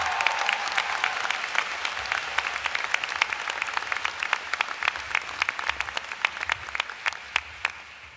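A graduation audience at a business school commencement applauds a student speaker: sustained crowd clapping with sharp individual claps standing out, steady and fairly loud, continuing on its own without speech.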